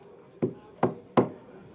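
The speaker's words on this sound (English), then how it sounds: "tap it in with a hammer just like that." A hammer taps a plug into Trex composite decking with three sharp, evenly spaced knocks, close and clear with no talking.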